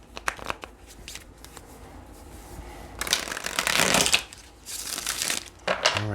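A deck of tarot cards is shuffled close by, soft taps first, then two strong riffling bursts separated by a short gap.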